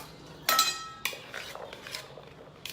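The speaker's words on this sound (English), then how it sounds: "let's give this a stir" A spoon stirs vegan ceviche with chickpeas and onion in a bowl, giving a couple of sharp clinks against the dish followed by softer scraping and stirring sounds, close and fairly quiet.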